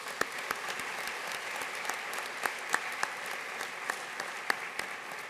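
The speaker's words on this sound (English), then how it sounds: "please give them a round of applause" Audience applause at the DCS Awards Ceremony 2022 for the nominees and award winners: a steady, moderately soft wash of many hands with a few sharper individual claps standing out, no voices over it.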